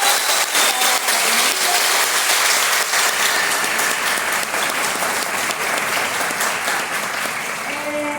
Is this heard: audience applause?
yes